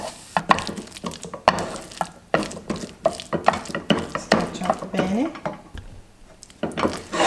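A spoon scrapes and clacks against a pot while stirring mashed potatoes with leftover cheese, giving irregular close knocks and scraping strokes mixed with faint kitchen noise.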